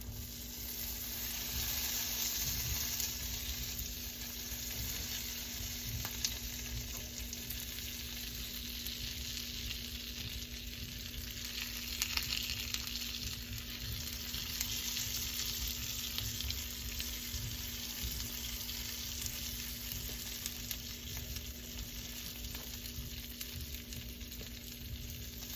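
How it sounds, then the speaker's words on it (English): Steady, continuous sizzling of a buttered garlic pizza in a hot pan, even and unbroken throughout, with no voices. "it's just gonna sit there for a couple of minutes till it stops sizzling a little bit"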